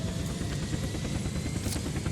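A helicopter in the game Unturned lifts off, its rotor making a steady, loud, throbbing chop that fills the whole stretch evenly, with no talking over it.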